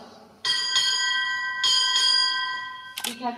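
A ship's bell struck by a boatswain at a ceremony sounds four clear metallic strikes in two quick pairs, each ringing and decaying, loud and near, with a voice starting to speak right after the last ring.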